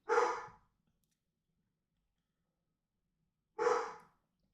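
A dog named Luna lets out two single, loud barks about three and a half seconds apart, with near silence between them.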